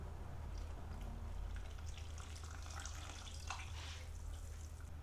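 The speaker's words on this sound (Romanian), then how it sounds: "Adăugăm borșul" Borș is poured into a pot of Romanian meatball soup, a faint, steady trickle and splash of liquid close by with no voices.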